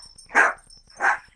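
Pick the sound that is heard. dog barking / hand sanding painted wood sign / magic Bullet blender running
dog barking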